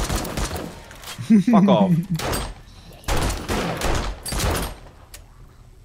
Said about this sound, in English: And that's why the machine gun's the best gun in the game.